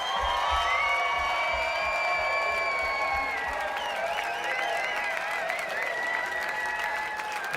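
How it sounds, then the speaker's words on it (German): Applause and cheering from a crowd at a German beatbox show honouring the performer Robeat, sustained clapping mixed with whoops and excited shouts, loud and continuous with voices rising through it. "gebt mal einen Applaus für Robeat."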